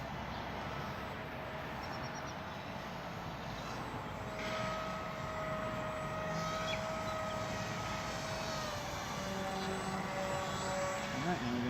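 A small model airplane, a home-built flying patchwork craft, drones steadily overhead while flying inverted, its engine whine holding a sustained tone that rises slightly, with quiet talk underneath.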